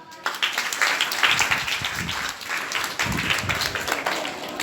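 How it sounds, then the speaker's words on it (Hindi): Steady applause from an audience at a meditation session in a girls' senior secondary school, many hands clapping together at close range for several seconds with no voices over it. "ताली बजाओ।"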